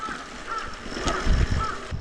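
Crows caw a few times at a distance along a winter mountain riding trail, harsh calls sounding over steady wind and rustling outdoor noise.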